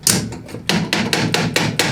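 A lead hammer strikes metal repeatedly, about six sharp blows in a steady rhythm, close and fairly loud, during a Craftsman 27-inch snow blower rebuild.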